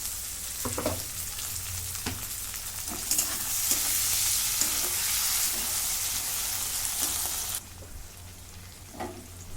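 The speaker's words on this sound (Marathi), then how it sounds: "आता याच्यामध्ये टॅमॅटो टाकून घेतो" Tomatoes dropped onto well-fried onions for a dried-fish sukat dish set off a constant hissing sizzle that swells louder midway and then falls back to a quieter fry, with a few clinks of a spoon and no speech.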